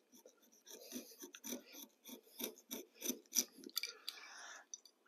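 A blade slicing through carpet while fitting waterfall stairs, heard as a series of short, close rasping strokes with brief pauses, fairly quiet, followed by a longer scraping drag.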